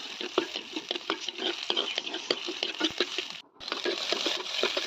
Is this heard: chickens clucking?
no